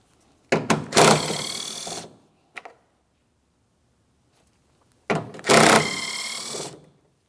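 Two bursts of power-tool whirring, likely an impact driver or ratchet spinning out 13mm bolts on a GMC Sierra 2500 HD tailgate, each a loud buzzing run of about a second and a half, separated by a brief clack and quiet.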